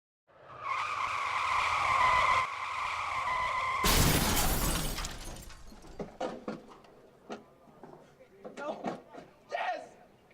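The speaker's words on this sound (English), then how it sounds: "This is a mock car crash what represents the consequences of drinking and driving." Staged drunk-driving crash: a long loud tire skid builds, then a burst of crashing impact and shattering glass, followed by scattered clatter of debris and settling pieces.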